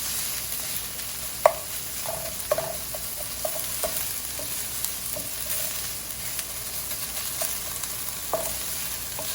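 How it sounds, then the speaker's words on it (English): Chopped onion sizzles steadily in a hot pan for stuffed aloo tikki, with a spoon scraping and stirring at irregular intervals, close and continuous with no talking. "You have to brown the onion or brown,"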